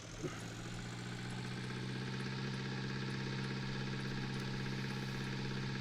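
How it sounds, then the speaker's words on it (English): The most powerful tractor in Farming Simulator 19 runs its engine at a steady, even drone, close and constant throughout with no talking over it. "this is our most powerful tractor and has a top speed of 17 miles per hour"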